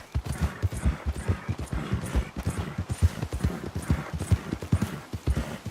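Horse hooves clip-clop in Red Dead Redemption 2, a steady, close and brisk walking rhythm of sharp hoof strikes that continues throughout without a break.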